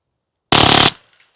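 A single loud suppressed burst from a TX-22 pistol fitted with a 3D printed silencer, sharp and close, cutting off abruptly with a short fading tail.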